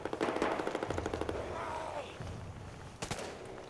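Rapid automatic gunfire in the multiplayer zombie shooter Contagion, a fast rattling burst for the first second and a half, then a couple of sharper shots near the end, fairly quiet overall.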